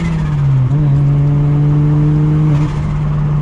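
A single-turbo N54 engine drones steadily from inside the car while driving, a loud low hum with a brief dip as the revs shift, no speech.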